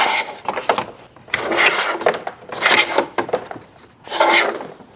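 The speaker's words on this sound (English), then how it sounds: "I'm going to feed the wire through the bottom opening, and I'm going to pull on it to eliminate any slack" Wire being fed through the bottom grille opening of a 2022+ Nissan Frontier and pulled taut for a light bar install, with four loud rough scraping, rasping pulls close by, separated by brief pauses and no talk.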